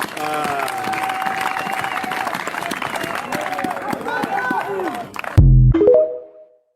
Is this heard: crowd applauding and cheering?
yes